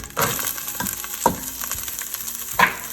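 Celery, carrots, onions and garlic sizzle in olive oil in a soup pot, a steady close fry with a few scraping stirs and clinks of the utensil against the pan.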